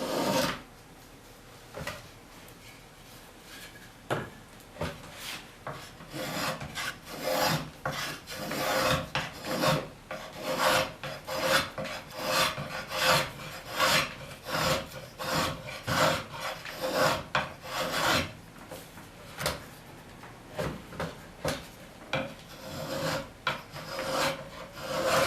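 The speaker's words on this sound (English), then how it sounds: "I prefer not to scrape it if I can get by with just a spokeshave finish." Steady wooden rasping and scraping as a spokeshave and scraper finish a handmade wooden comb, a dense run of close, repeated strokes with brief pauses, no talking.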